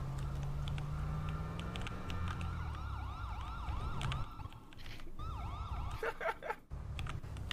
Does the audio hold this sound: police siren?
yes